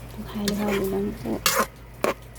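Soup is stirred in a pot, with a few soft scrapes and clinks of the spoon against the metal between brief spoken words, close and fairly quiet.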